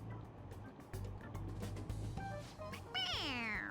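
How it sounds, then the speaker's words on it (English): Stuffed toy cat in Persona 5 Royal giving a few electronic meows as its head is pressed, short squeaky cries over a low background hum, ending in a longer, louder, drawn-out meow. "It meows when you press on its head."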